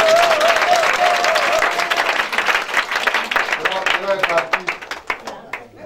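An audience at a prayer gathering applauds and cheers for Jesus, loud continuous clapping with crowd voices that thins into scattered claps toward the end.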